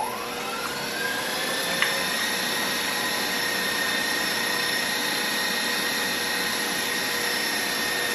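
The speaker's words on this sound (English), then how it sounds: "turn on the mixer, and I'm going to whip these" Electric mixer whipping angel food cake batter with cream of tartar toward soft peaks, a loud, steady motor whine that runs unbroken throughout with no talking.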